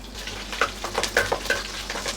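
Bay leaf, cumin and green chillies fry in hot oil over a low flame, a close sizzle broken by a few sharp crackles and pops, with no talking.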